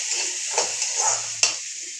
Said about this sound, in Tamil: இந்த இஞ்சி பூண்டு பேஸ்ட்டை வந்து நல்லா நம்ம பட்டாணி கூட பச்சை பட்டாணி கூட கலந்து விட்டுடலாம்